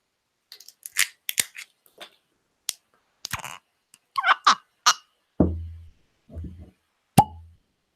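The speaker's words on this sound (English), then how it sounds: "Let's see if Taiwanese whiskey makes a cork pop." A cork pulled from a bottle of Taiwanese whiskey gives a series of sharp, close pops and squeaky twisting clicks, ending in a deeper hollow plop and a final snap.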